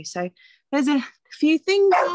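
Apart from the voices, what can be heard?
dog barking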